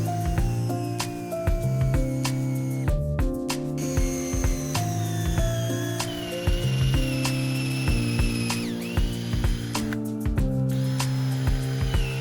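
A hand ratchet drives lag bolts into a wooden roof frame for an off-grid bathroom, its rapid clicking pawl repeating in bursts with brief pauses and metallic ticks, loud and close.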